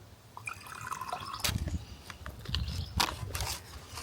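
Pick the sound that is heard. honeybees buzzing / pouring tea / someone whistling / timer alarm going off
pouring tea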